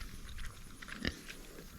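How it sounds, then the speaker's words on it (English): Pigs munch on pumpkin seeds, their soft grunts and snuffling mixing with scattered crunching close by, plus one sharper snap midway, all over a steady outdoor background hiss. "The pigs love it as an awesome treat."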